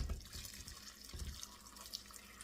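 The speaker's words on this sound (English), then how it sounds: "And I'm going to now cover with water." Water pours steadily into a pot of dried apples and about a cup of sugar, a soft continuous splashing rush heard close and fairly quiet, with no talking.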